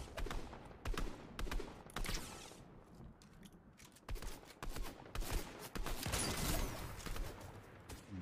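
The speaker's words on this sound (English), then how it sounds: "Someone's shooting from behind." Scattered bursts of gunfire from a battle royale video game firefight, repeated sharp cracks at irregular intervals, fairly faint and mixed with other game noise, no talking.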